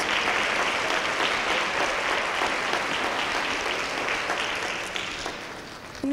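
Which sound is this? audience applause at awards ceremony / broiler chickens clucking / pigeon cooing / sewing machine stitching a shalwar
audience applause at awards ceremony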